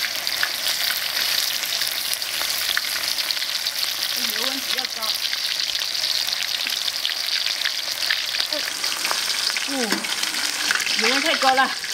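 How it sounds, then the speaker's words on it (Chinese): Pork ribs deep-fry in very hot oil with a dense, continuous sizzle and bubbling, alongside occasional stirring and faint voices in the background. "加油，开始炸，你加这么多吧，炸几锅，下锅炸"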